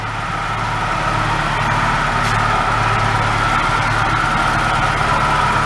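The engine of a 1965 Hillman Imp, revived after being parked 30 years, runs steadily while the generator takes a load, a loud continuous close-up drone with a low hum and no voices.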